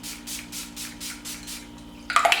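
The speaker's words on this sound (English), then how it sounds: "Too Faced Hangover 3-in-1 Replenishing Spray and Replenishing Primer and Setting Spray" Too Faced Hangover 3-in-1 replenishing primer and setting spray mists out in a run of about six quick, even pumps, each a soft close-up hiss, followed by a brief brighter rustle at the end.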